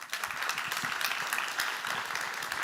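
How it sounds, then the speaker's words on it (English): Audience applause for a speaker on the main stage of a UI5con developer conference, a steady wash of many hands clapping at close range, continuing evenly for a few seconds with no voices. "And ask you to spend a round of applause for Dominik."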